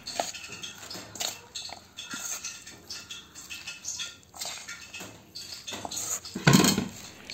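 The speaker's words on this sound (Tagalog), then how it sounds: "At haluin natin ito ng mabuti." Spoon scraping and clinking against a bowl while stirring a batter of all-purpose flour and cornstarch with vegetables and small shrimp, steady and close, with a louder clatter near the end.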